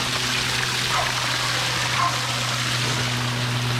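Water pours steadily out of the bed of a 1979 dump trailer that sat in the bushes for 20 years, a loud continuous rushing gush with no talk over it.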